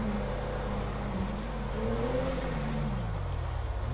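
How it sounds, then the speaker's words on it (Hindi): A 2015 Toyota Corolla in GTA5 climbs off-road, its engine droning and rising in pitch as it revs, then easing down, a steady mid-loud hum without speech. "जा रही है गाड़ी ऊपर को।"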